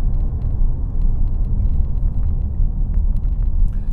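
A Ford Mustang Bullitt Edition driving along a narrow UK country lane, its engine and exhaust a loud, continuous low rumble heard from inside the car.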